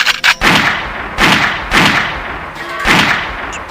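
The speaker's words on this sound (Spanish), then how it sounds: "hasta que de repente se escucharon unos disparos." Four loud, sharp gunshots ring out as a sound effect at roughly even intervals, each with a brief echoing tail.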